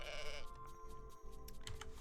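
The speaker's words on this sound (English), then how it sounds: "we'll have to count those adorable sheep once more" A sheep in a video game bleats in a short, wavering cry, followed by softer game sounds and light clicks in the background.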